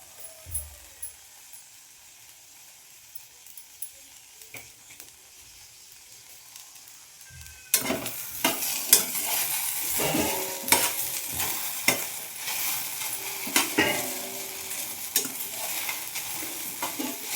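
Okra (ladies finger) dry-roasting in a pan, a quiet stretch giving way to steady sizzling with scraping stirs and clattering pan contact from about halfway through, no talk.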